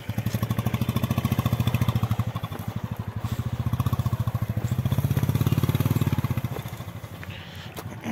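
A motorcycle engine runs close by with a rapid, steady thumping putter, rising and falling slightly in loudness, then easing off toward the end.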